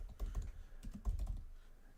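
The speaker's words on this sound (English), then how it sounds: "I'm typing it in again." Rapid clicks of a computer keyboard being typed on, quick irregular keystrokes close by with no voices.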